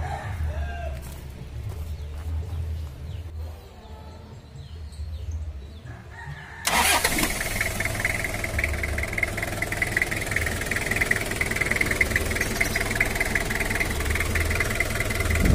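Diesel engine of a Toyota Kijang LGX catching suddenly midway, then idling steadily and loudly up close. A rooster crows in the background before the start, and no one speaks.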